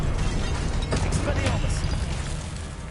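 Confringo fire spell blast in the Hogwarts Legacy game, a dense burst of rumbling explosive noise with crackling bursts layered over continuous loud game audio, with a person speaking underneath.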